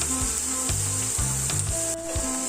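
Two sliced onions with salt sautéing in a pan make a continuous close sizzle with light stirring scrapes, over faint background music.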